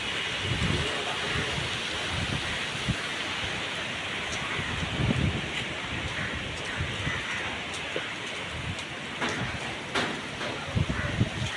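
Strong wind blows hard as dark storm clouds roll into Angul, Odisha, raising dust; a continuous broad roar with rustling gusts fills the whole stretch at a fairly loud, even level.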